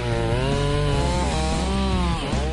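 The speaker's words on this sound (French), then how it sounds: "Au son très heavy metal des tronçonneuses et des hélicos" A loud chainsaw felling trees on Vancouver Island, Canada, drones steadily, its pitch dipping and rising as the engine bogs and revs through a cut.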